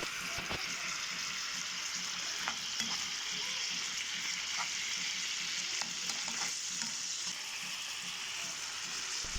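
Chicken sautéing with colourful vegetables in a pan, an even, continuous sizzle close by, broken by light scrapes and taps of stirring, with no one speaking.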